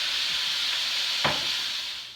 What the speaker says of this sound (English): Meat has been browning for about 4 or 5 minutes